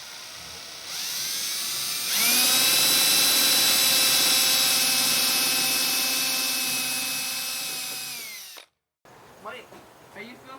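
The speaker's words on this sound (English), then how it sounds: "drill a hole." A power drill bores a hole in a scrap-wood feather board, whining loudly and steadily for several seconds before cutting off abruptly, after which brief talk follows.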